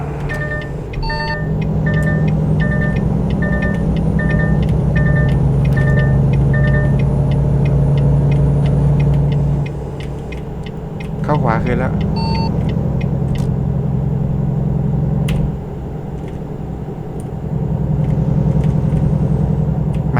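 A truck engine drones steadily while it accelerates in the American Truck Simulator game, accompanied by a repeated electronic beep pattern early on and a brief rising whine, with talk over the top.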